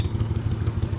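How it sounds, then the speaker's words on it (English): Big outboard boat motor on a river, a loud, close engine rumble pulsing steadily as the boat slows and passes near anglers fishing from shore, with no talking. "That is a big ass motor."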